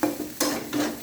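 Egg chowmein is stirred in a frying pan over low heat. Three close scraping strokes of the spatula stand out over a soft, continuous sizzle.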